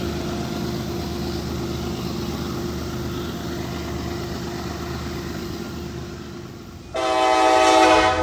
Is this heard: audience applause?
no